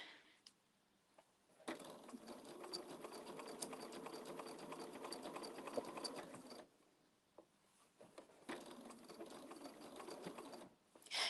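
A sewing machine stitches in two sustained, fairly quiet runs of rapid mechanical whirring, separated by a short pause and followed by a brief final burst.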